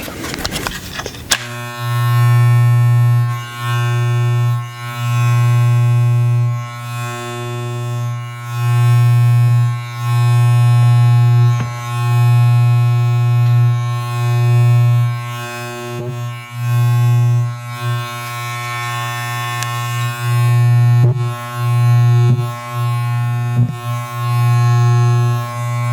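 Wahl electric hair clippers buzz steadily and loudly at close range, a continuous motor hum with slight pulsing in level and a few small clicks as they are handled.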